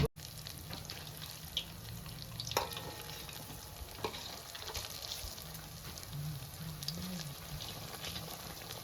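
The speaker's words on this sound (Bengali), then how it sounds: "পকড়ি ভাজা শুরু করে দিয়েছে" Lentil fritters for dahi vada frying in hot oil, giving a steady close sizzle throughout with occasional stirring clicks and a low background hum, no talk.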